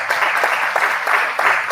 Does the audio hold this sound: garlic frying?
no